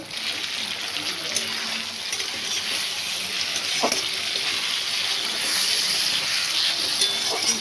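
Puti fish with coriander leaves frying in a pan, a dense, steady sizzle that stays close and loud for several seconds, with occasional light stirring clinks.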